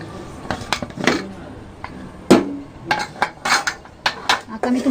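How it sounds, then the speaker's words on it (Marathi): A pressure cooker lid is worked open with a series of sharp metallic clanks and clinks, irregular and close, against a quiet kitchen background. "कुकर थंड झालेला आहे, आता मी उघडून बघते।"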